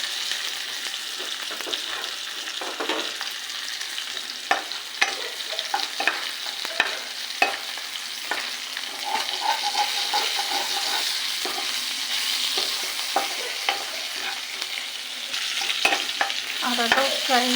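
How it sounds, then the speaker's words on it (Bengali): Grated ginger frying with onion and garlic in a pan: a constant close sizzle with repeated sharp scrapes and taps of a spatula stirring the pan, no voices. "আদাটাও ফ্রাই হয়ে গেছে"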